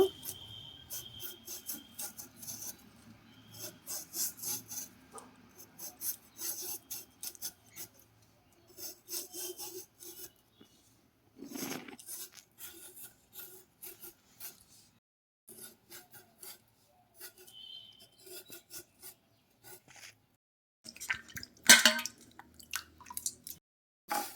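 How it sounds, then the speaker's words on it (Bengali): A medium-size potato is peeled and cut into long strips by hand, with close, repeated scraping and rasping strokes in short bursts separated by brief pauses. "এইভাবে আলু কেটে নেব"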